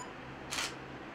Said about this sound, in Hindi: अब फोटो क्लिक करके देखते हैं